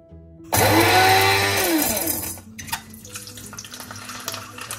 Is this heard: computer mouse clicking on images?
no